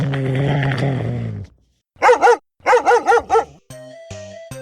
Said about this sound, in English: Mudge growled.